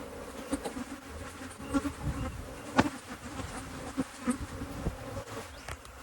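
Honey bees swarm in a robbing frenzy around a hive, a dense, continuous buzzing hum with individual bees whizzing close past now and then.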